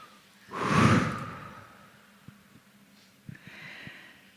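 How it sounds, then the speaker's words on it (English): A single deep breath drawn in close and audible, a long airy inhale that fades, followed by faint rustles and soft clicks. "Take a deep breath."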